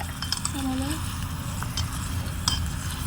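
Onions sizzle and scrape as they are stirred in a miniature cooking pot, a steady frying hiss with a few small utensil clinks and a brief squeak, heard under nearby voices.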